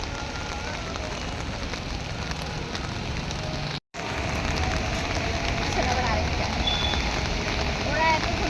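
Rain pours steadily beside Hatirjheel lake in Dhaka, heard from under an umbrella as a dense, loud, even hiss that carries on without a break for the whole stretch.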